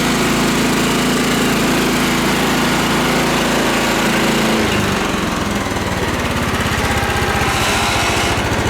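An old tractor engine, bought cheaply and just cleaned up, starts with some hesitation and then runs on as a loud, close, buzzing chug that steadies into a continuous rough running note.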